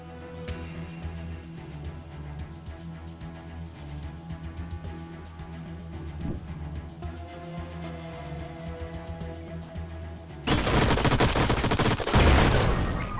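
Shotgun fire in the sci-fi strategy game Age of Wonders Planetfall, a loud burst of overlapping blasts that erupts suddenly after a stretch of quieter game music and effects.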